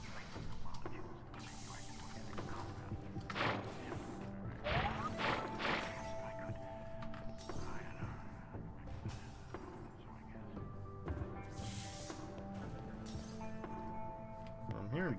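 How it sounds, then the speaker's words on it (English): Glass breaking in the puzzle video game Quantum Conundrum: several sharp crashes and shattering clinks sound over a busy bed of mechanical creaks, whirs and knocks throughout. "I'm hearing breaking glass"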